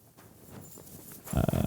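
A horse in the medieval role-playing game Kingdom Come: Deliverance II, heard as a sudden loud, close snorting burst near the end after a low, steady ambient bed.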